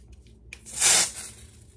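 Pressurized gas from a Sig BB gun pistol releases in a single hissing spray, swelling to a loud peak for about half a second before fading off, with faint background noise and no talk.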